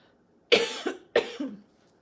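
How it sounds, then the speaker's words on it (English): Two sharp coughs close to the microphone, each a quick double burst, separated by a brief pause with quiet around them. "I'm going to stop there because I'm coughing now."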